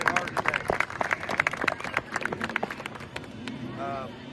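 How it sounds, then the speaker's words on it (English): A group at a youth football tournament claps for both teams after a game, with a dense burst of many hands clapping close by and voices talking over it. "round of applause, both you guys, both teams here."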